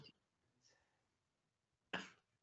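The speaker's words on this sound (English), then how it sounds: "That was a cough." A single sharp cough from a person indoors, short and close, following a faint earlier breathy sound in an otherwise quiet room.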